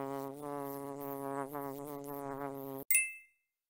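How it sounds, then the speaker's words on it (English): Flies buzz around a hungry frog in a steady, close, wavering drone that cuts off abruptly near the end, followed by a brief sharp sound and silence. "there are lots of flies around"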